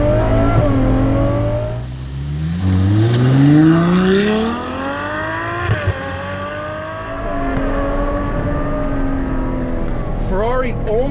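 A Ferrari 812 Superfast with its 789 hp engine accelerates hard from inside the car, a loud rising howl through the gears with brief dips at each shift, continuous throughout.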